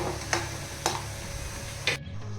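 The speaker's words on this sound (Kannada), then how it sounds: "ಇದು ಬೇಗ ಫ್ರೈ ಆಗ್ತದೆ ನೋಡಿ ಇದು ಕೂಡ ಫ್ರೈ ಆಯಿತು" Chakli (chakkuli), a crisp homemade snack made from anganwadi powder, frying in hot oil with a steady close sizzle broken by a few sharp crackling pops, with no talking.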